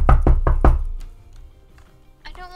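Four loud, evenly spaced knocks on a door in a video game ring out close up, followed by a quieter stretch and a short bright chime at the end.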